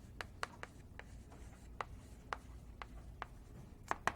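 Chalk or a marker taps and scrapes on a board during a linear programming lecture. The short strokes come in an irregular series, close and fairly quiet against a soft room hum, with no talking.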